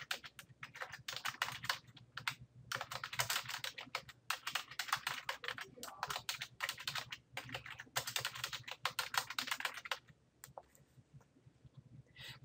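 Someone types on a computer keyboard in rapid bursts of clattering keystrokes, with brief pauses between runs, close and clear for about ten seconds before the typing stops.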